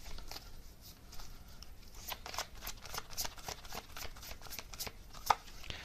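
Tarot cards are riffled and shuffled in a string of soft, papery flicks close by, with a steady low rustle between them and one sharper snap near the end.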